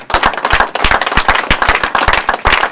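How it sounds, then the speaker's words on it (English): An audience at a teen open mic and talent showcase clapping hands, loud sharp claps in a fairly steady rhythm, close and punchy, continuing for nearly three seconds with no talk over them. "Clap your hands."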